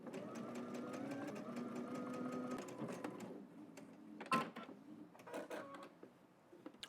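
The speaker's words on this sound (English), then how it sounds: "Let's head to the machine, and we're going to add stitch all the way down to the hem." A sewing machine stitches steadily down a garment toward the hem, its motor humming in a continuous close whir before breaking into irregular clicks and short mechanical bursts, with no talking.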